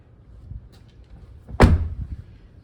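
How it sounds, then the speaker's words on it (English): A garage door is pulled shut with one sharp, heavy thud that rings briefly, close and loud, after faint wind-like rustling and light handling noise, with no talk. "Should probably just shut the door."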